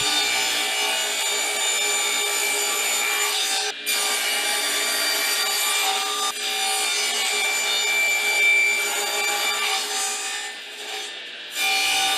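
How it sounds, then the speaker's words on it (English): A table saw with blade and miter gauge tilted to 7 degrees cuts wooden legs for a stitching pony, a steady loud whining rip with brief dips between passes and no talk. "I set the blade and miter gauge to 7 degrees and made the first pass on all the legs"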